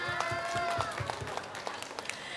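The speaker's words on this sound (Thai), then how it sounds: "ปรบมือหน่อยค่ะปรบมือหน่อยค่ะ" Rhythmic clapping from a crowd keeps time over loud music, the claps falling in regular beats.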